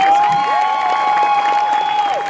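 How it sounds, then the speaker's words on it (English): A large convention-hall audience at BlizzCon 2016 claps and cheers for Blizzard's Chris Metzen during an Overwatch panel, a dense steady roar of applause and whoops over a sustained tonal hum, loud throughout. "Let's clap for Chris Metzen"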